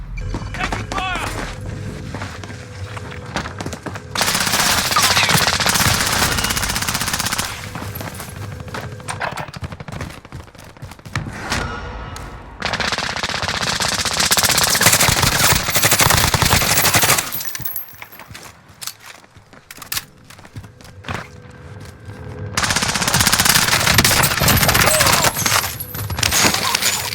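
Automatic gunfire in the Call of Duty Warzone battle royale on Xbox One comes in loud sustained bursts with brief pauses between them, and game voices and effects sound alongside.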